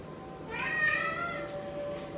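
A cat meows once close by, a drawn-out rising-and-falling call lasting about a second over a quiet indoor background.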